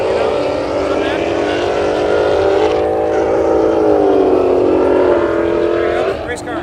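A Mazda RX-7 FB race car running nearby, its rotary engine giving a loud, sustained droning tone with slight pitch shifts, steady over several seconds, with people talking in the background.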